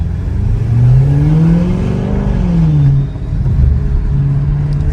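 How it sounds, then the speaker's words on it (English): A straight-piped Audi S7 driving through downtown Toronto, its exhaust droning loud and close as the revs rise and fall in a long sweep, then settling into a low burble. "It pops in burbles for sure."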